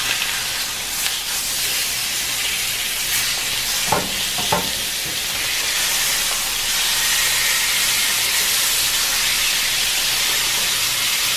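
Seasoned meat sears in a hot pan with a steady, loud sizzling hiss that continues throughout, broken by a couple of brief utensil clinks near the middle.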